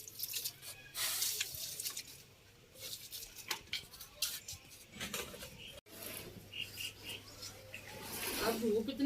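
Water is poured onto wilted fenugreek plants in a village garden: faint trickling and dripping over several seconds, with birds calling in the background and some quiet, indistinct voices.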